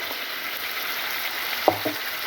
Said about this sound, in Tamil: ஒரு பூண்டு போட்டு நசுக்கி தாளிச்சிருக்கோம்